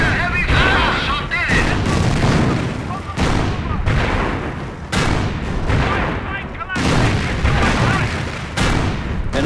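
Heavy gunfire and artillery in Company of Heroes: loud, close bursts of rifle and machine-gun fire mixed with booming shell blasts, coming in rapid clusters with brief gaps.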